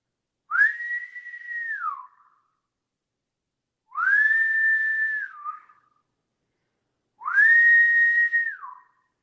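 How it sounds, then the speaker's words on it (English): Three separate long whistles, each rising sharply, holding a steady pitch for over a second and then dropping with a short downward flick, evenly spaced and loud against silence. "Everybody doesn't get the whistle. She gets the whistle."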